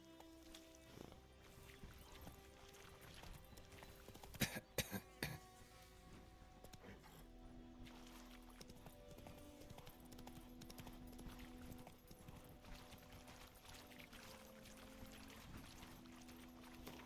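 A horse in The Witcher 3 walks with quiet, repeated clip-clop hoofbeats set against faint game ambience, with a few sharp knocks partway through.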